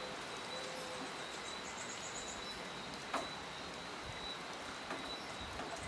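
Steady rain hissing down outside a church in St. Thomas, Barbados, a constant broadband wash with a few faint drips and distant bird chirps, no voices.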